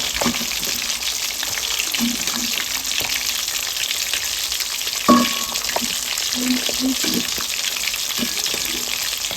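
Fish frying in shallow oil in a pan, village-style fry, giving a steady continuous sizzle throughout with a few soft scrapes and one sharper clatter near the middle.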